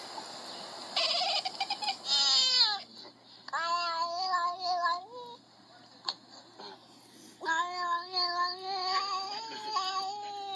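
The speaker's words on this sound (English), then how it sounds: "What is happening with this cat?" A cat meowing strangely, with long wavering, warbling yowls in several drawn-out bursts separated by short pauses, fairly close and clear with no talking over it.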